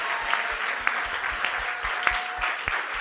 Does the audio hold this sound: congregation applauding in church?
yes